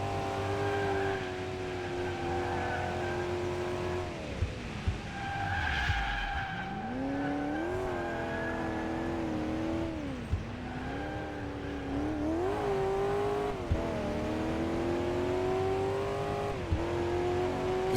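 Mercedes-AMG car driven hard around a race track in a driving video game: engine revving up and down through gear changes with repeated tire squeals and skids, continuous and close, with no talk.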